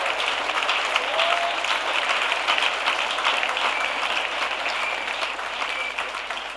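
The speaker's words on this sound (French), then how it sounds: "Yes, clap loudly." A church congregation at an evangelical prayer service claps loudly and continuously, a dense steady wash of applause from many hands with no voices over it.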